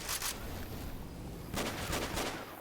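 Gunfire from shooting zombies in Left 4 Dead 2 comes as a short burst of rapid shots, a lull under game ambience, then a second longer rattling burst, moderately loud.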